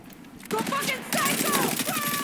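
Rapid automatic gunfire in a shooter video game: a quiet opening, then dense, continuous bursts of shots that grow louder and keep going to the end.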